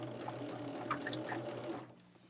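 A sewing machine stitches pairs of quilt half square triangles together, a steady mechanical whir with a low hum and light clicking that runs alone for about two seconds, then trails off.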